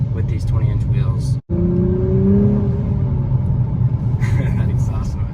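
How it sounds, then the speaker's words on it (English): A steady low engine and exhaust rumble from an Acura TLX Type S with quad exhaust pipes, heard from inside while driving, briefly cut off, then continuing with a rising tone as someone talks over it. "That exhaust noise, I love it."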